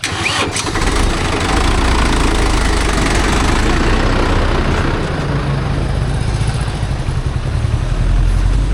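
A motorcycle engine runs steadily up close, its loud, continuous rumble holding at an even level throughout with no voices over it.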